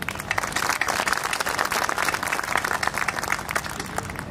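A fundraising event audience claps together in a lively, continuous burst, dense and fairly close, with no talk over it.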